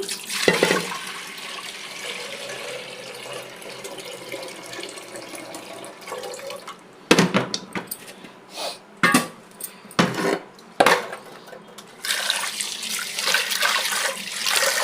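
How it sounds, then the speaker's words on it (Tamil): Water runs and splashes into a metal pot for several seconds, with a few clanks of the vessel and brief pauses, close and fairly loud, near a gas stove. "இந்த பாத்திரத்தில் நான் கொஞ்சம் ஊற்றி"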